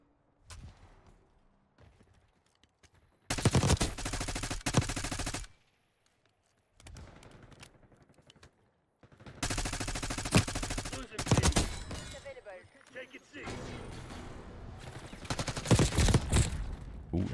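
Rapid automatic gunfire in the video game Black Ops 6, coming in several loud sustained bursts separated by quieter gaps, with faint game sounds between them.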